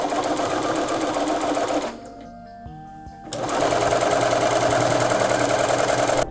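A sewing machine stitches down quilt binding on a table runner, running loud and fast in a dense mechanical whir, pausing briefly partway through, then resuming at full speed.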